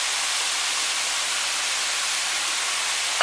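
Steady, loud hiss of cabbage frying in a pan with browned mince, a dense continuous sizzle with no talk.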